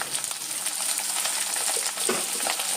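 Garlic, green chillies, kanthari chillies and curry leaves fry in hot oil for a pickle, giving a steady, close, busy sizzle that runs throughout with no talk.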